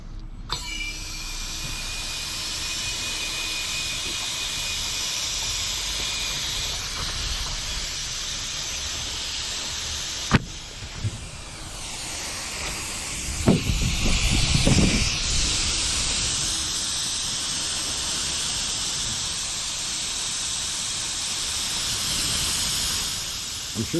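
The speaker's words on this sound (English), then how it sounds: "I'm sure you can hear the air that's escaping" Air hissing out steadily while a propane fuel keg is refilled, a constant close broadband hiss lasting throughout, broken by a few sharp clicks and a brief louder rush midway.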